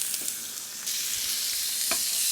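A dry-aged pork chop sears in a hot pan, giving a steady close hiss and crackle of sizzling fat with a few sharper pops, with no talking.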